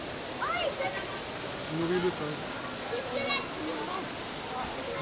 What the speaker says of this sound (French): Sympa cette petite cascade.